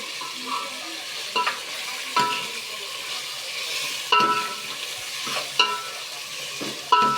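Ginger and turmeric frying in a pan with onions, a steady close sizzle broken by several scraping stirs of a spoon against the pan, with no talking.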